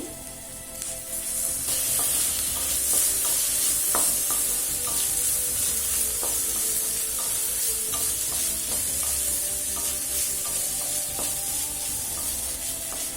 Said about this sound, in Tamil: இப்போ தக்காளி நல்லா வதங்கிடுச்சுங்க